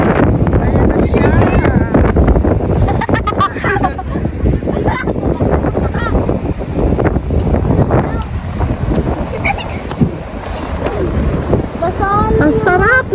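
Wind gusts steadily across a beach at Calatagan, Batangas, a loud continuous rush that buffets the microphone throughout, with people talking over it.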